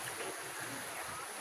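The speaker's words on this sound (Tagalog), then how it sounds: "Bumabaha na guys. Malakas yung current ng tubig." A strong current of floodwater rushing along a flooded road, a steady broadband wash of churning water with low rumble, continuous and fairly close.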